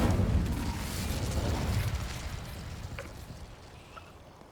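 An Incendio fire spell bursts in Hogwarts Legacy, a loud whooshing blast right at the start that swells into a roaring rumble, then fades over a few seconds into a quiet bed with faint clicks.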